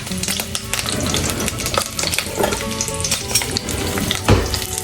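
Onion with guajillo and árbol chiles frying in hot oil in a pan, a loud dense sizzle with crackling pops and a few stirring knocks, with no talk.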